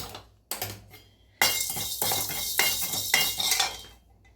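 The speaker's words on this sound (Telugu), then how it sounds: "1/2 టేబుల్ స్పూన్ జీలకర్ర, ఇందులో 20 వరకు మిరియాలు వేసుకొని చక్కగా ఫ్రై చేసుకుందాము." Half a tablespoon of cumin seeds and about twenty black peppercorns dry-fried in a pan for tomato rasam, close scraping and rattling strokes from stirring in a repeated rhythm after a couple of sharp knocks, with no talking.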